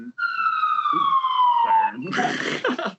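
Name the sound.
siren passing in New York City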